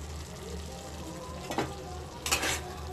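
Dum aloo with ghee and chopped coriander is stirred in a pan, a continuous sizzle with two distinct scraping sweeps of the spoon toward the end.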